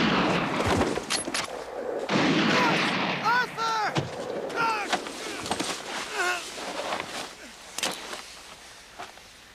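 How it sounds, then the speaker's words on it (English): Gunfire in a 1989 Bordertown film scene: several sharp shots and booms crack out amid loud action noise, with shouted voices and cries mixed in between the bursts. "Nice shooting, Clive."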